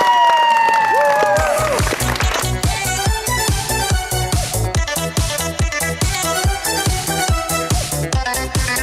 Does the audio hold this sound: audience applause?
yes